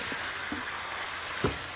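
Shrimp fries in a pan with salt and black pepper as a constant close crackling sizzle, with a few soft scraping stirs and one firmer knock near the end.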